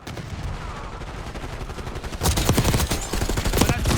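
Frag grenade thrown during a first-person shooter match, with rapid gunfire crackling throughout and a louder burst of explosive, dense shots erupting midway and continuing to the end.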